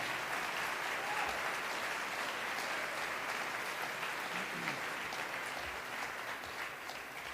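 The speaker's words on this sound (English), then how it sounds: "Pretty sure they're clapping for you" Audience applause fills a civic State of the City address in San Antonio, steady, dense clapping from a large crowd that holds at an even level throughout without breaks.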